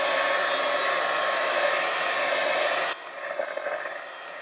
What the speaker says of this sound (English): I like this bad boy. Heat gun.